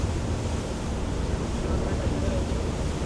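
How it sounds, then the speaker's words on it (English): Solaris Power 60 Coupé motor boat running flat out on a sea trial, a loud, steady roar of engine and rushing water with heavy wind buffeting throughout. "We're just going to do a little speed run, see what it does flat out."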